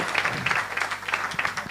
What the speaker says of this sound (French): applaudissez un peu plus fort, s'il vous plaît